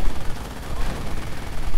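Machine gun fire and grenades in a WWII strategy video game crackle in a dense, loud, continuous fusillade of rapid gunshots.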